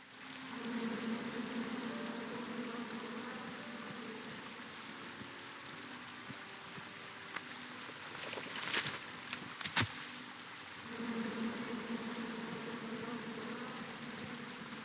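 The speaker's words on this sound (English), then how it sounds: "Come at me, bees!" Bees buzzing in the King's Quest video game, a steady droning hum over a watery background, briefly broken by a few sharp clicks and knocks before the buzz returns.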